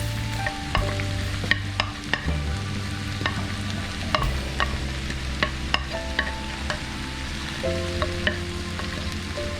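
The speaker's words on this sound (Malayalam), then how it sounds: "എന്നിട്ട് ഇതിൻ്റെ പച്ചച്ചുവയൊക്കെ മാറുന്നിടം വരെ ഇത് നന്നായിട്ട് നമുക്ക് വഴറ്റിയെടുക്കാം." Crushed ginger, garlic and curry leaves sautéing in a pan for tapioca biryani, a constant sizzle broken by regular spoon clinks and scrapes as the mixture is stirred.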